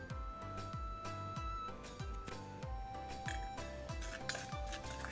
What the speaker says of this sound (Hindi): और मसालों को इस तरीके से मिक्स कर लेंगे